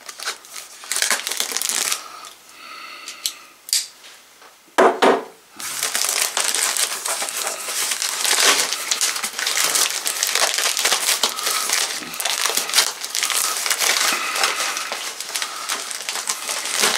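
Cardboard and plastic packaging for a set of Retevis H777 GMRS radios crinkles, tears and rustles close by in continuous handling, with brief louder crunches along the way.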